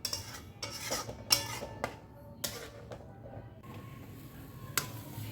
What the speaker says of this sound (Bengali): খুব ভালো করে মিশিয়ে এটাকে আমাদের একটু সময় নিয়ে হাতে আসিয়ে নিতে হবে